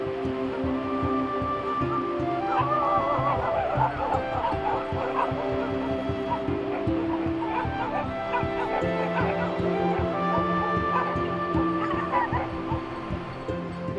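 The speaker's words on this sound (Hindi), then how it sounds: "इनमें से 2 कुत्ते हमारे साथ नीचे से आए और अभी यहाँ पे आके हम पे ही भौंक रहे हैं भाई" Several dogs bark at approaching hikers around a high-altitude shepherds' hut at about 14,200 ft in the Himalayas, with repeated bursts of barking and yipping over steady outdoor background noise.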